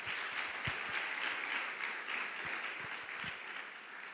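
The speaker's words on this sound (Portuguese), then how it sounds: "Vamos aplaudir os homens" A church congregation applauds the men with soft, fairly distant sustained clapping, a few sharper individual claps standing out close by.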